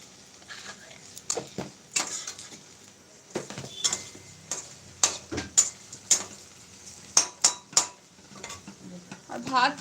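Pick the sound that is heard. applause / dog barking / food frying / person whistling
food frying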